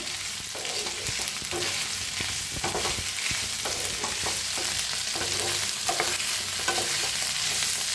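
Potato sabzi cooks in a pan with a steady background sizzle, and repeated spoon scrapes and stirs land in an uneven rhythm close at hand. No one speaks.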